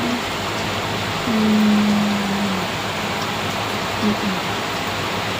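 Heavy rain from a typhoon pours down as a steady, dense hiss that fills the whole clip, with a faint low hum rising briefly partway through.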